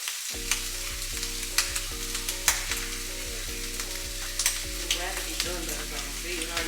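Food sizzling and frying steadily in a pan on a home stove, a continuous close crackle with small pops, while a low repeating electronic tone runs underneath.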